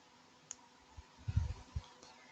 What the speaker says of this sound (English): So I'm just going to click add members